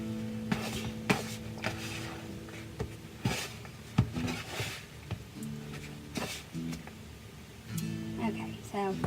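A spoon working through stiff soda bread dough in a bowl, with knocks, clatters and scraping strokes against the bowl, close by, with some pauses between bursts.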